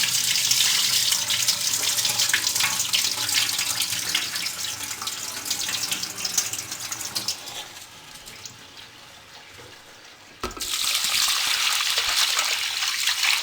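Water pours from a tap into a pot as rice is rinsed, a loud steady splashing that thins and quiets briefly, then surges back at full strength.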